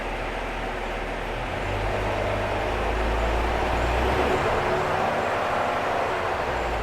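Cummins X15N natural gas engine in a Kenworth truck, factory installed, rated 450 hp and 1650 lb-ft, idles as a steady low rumble and rises through a couple of short revs in the middle of the clip.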